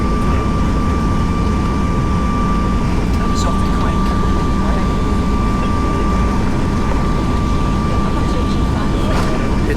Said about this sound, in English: We're on a Max 8200, 737 Max 8200. It's only 2 months old,